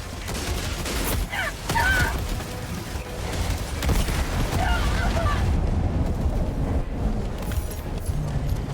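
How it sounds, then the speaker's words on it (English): An orbital laser strike in the video game Helldivers 2 makes a sustained, loud roaring blast of noise, with crackling bursts and rumble that continue through the whole stretch. "Firing orbital laser."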